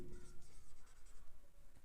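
Pen writing by hand during a physics lesson, a close, soft scratching of strokes in short rhythmic bursts, heard on its own without speech.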